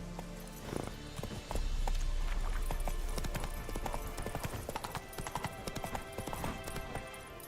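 Horse Roach galloping in the video game The Witcher 3, a brisk, steady clip-clop of hooves that sounds close and prominent, running continuously with a low rumble underneath.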